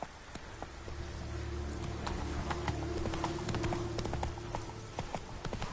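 Roach, the horse in The Witcher 3: Wild Hunt next-gen on PS5, gallops in a fast, close run of loud hoof clops over a low rumbling game backdrop, with no talking.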